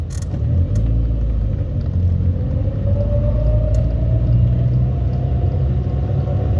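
A Toyota Paseo driving through town gives off a steady, close engine and road rumble. The drone stays loud and unbroken, with no talking.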